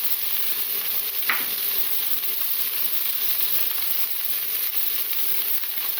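Food sizzles in a hot sauté pan as it browns on its first side, a loud, continuous frying hiss with a faint clink near the start and no voices.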